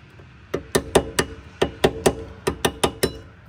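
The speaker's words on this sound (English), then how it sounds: "So I'm going to go around and I'm just going to chisel it away." Chisel hammered against rust on the rear brake bracket of a Hyundai Tucson, a loud run of about a dozen sharp metallic taps in quick uneven bursts, close and alone.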